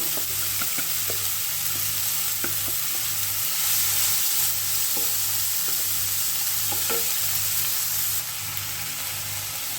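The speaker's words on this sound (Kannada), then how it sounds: "ನೋಡಿ ಇದನ್ನು ಇವಾಗ ಚೆನ್ನಾಗಿ ಫ್ರೈ ಆಗಬೇಕು ಕ್ರಿಸ್ಪಿ ಆಗಬೇಕು" Finely chopped cluster beans frying in a pan, a loud continuous sizzle with a steady low hum and sharp spoon-scrape clicks from stirring, no talk.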